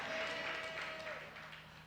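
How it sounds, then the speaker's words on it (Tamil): A church congregation claps hands together during a Tamil worship service, a dense, steady wash of applause that gradually fades, with a sustained tone ringing beneath it. "நல்ல கைத்தட்டி ஆண்டவரை மகிமைப்படுத்துங்க"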